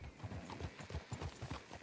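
Horse hooves clip-clop in a steady trotting rhythm in the Red Dead Redemption 2 video game, close and fairly loud, with no voices over them.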